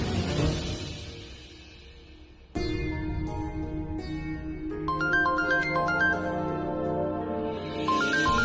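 A phone's melodic ringtone plays during a tense scene in a Hindi TV serial drama, a bright electronic tune that starts, breaks off, then resumes with rising note patterns, loud and clear with no talking.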